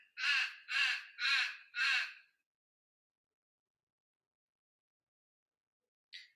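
A crow caws four times in quick, even succession, loud and harsh, then falls silent before one brief, fainter caw near the end.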